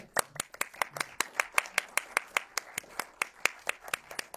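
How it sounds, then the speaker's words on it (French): Slow, evenly spaced hand claps ring out one after another in a steady rhythm, fairly quiet and close, at a cinema screening event. "faut l'applaudir à nouveau"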